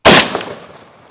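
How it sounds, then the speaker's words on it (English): A Benelli M4 shotgun fires one double-aught buckshot round at point blank: a single loud, close blast with a ringing tail that fades over about a second. "So this is double-aught buckshot at point blank."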